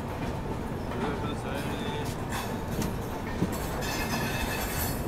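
A Humsafar Express pulls into a platform at Vijayawada Junction, its wheels rumbling and clacking continuously with faint squeals, while station chatter and voices carry in the background throughout.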